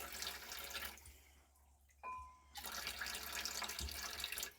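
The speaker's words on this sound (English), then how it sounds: "Just put a little bit of water in there" Water runs from a tap in bursts, stopping briefly in the middle before gushing again, with a faint clink in the quiet gap.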